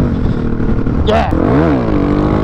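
A motorcycle accelerates hard in third gear, its loud, close engine roaring and climbing in pitch, with wind noise and a voice shouting over it.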